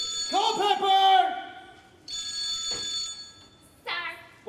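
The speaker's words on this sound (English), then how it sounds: "the phone is ringing!" A telephone ringing onstage during a high school junior class play, three separate bursts of trilling electronic ring with short gaps between, moderately loud, while voices overlap the rings.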